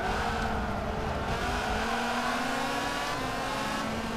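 Modified Dodge Viper GTS with an aftermarket exhaust in Forza Motorsport 7, its engine droning steadily and loudly through a left-hand corner, pitch rising and falling slightly as the throttle shifts, with no talking.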